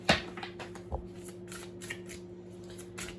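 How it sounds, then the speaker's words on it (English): Crisp riffling and slapping of tarot cards being shuffled, several quick bursts in a row over a faint steady hum. "hopefully the shuffling won't eat up too much time"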